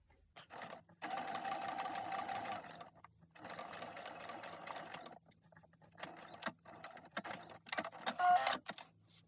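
A sewing machine runs straight stitches at length 3 through fabric for knicker making, giving close, quiet bursts of rapid whirring separated by short pauses, the later runs shorter and choppier.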